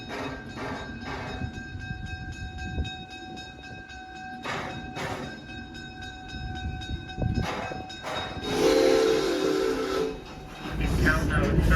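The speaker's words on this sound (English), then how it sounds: "Don't be late for the train." A zoo train ride at Omaha's Henry Doorly Zoo, with a loud rumbling train carrying steady whistle or horn tones over the running noise, and short bursts of talk over it.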